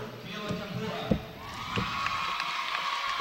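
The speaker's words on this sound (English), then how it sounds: "Big cheer goes up for the Forest Lake Lady Falcons" Crowd at a Forest Lake Christian High School girls' basketball game against the Woodland Lady Cardinals cheers and claps for the Lady Falcons, a steady roar in a gym with a few whoops, under announcer talk.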